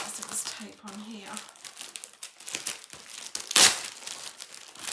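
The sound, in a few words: unpackaging a taped project bag, crinkling packaging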